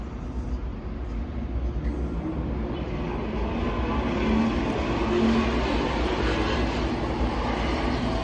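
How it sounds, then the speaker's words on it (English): A loud car passes along a city street, its broad engine and road roar holding steady and close throughout, swelling slightly near the middle with no talk over it. "Hear that loud ass car?"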